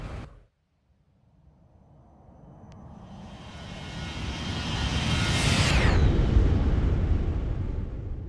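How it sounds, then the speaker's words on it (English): A Boeing 737 in a flight simulator flies past, its jet engine roar building steadily from near silence to a loud, broad rush that peaks and then lingers. "Let's get another flyby of the little Boeing here."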